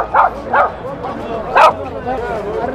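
Small dog barking at a bird and animal market in Riyadh, Saudi Arabia, sharp yappy barks in quick bursts close by, with people talking in the background.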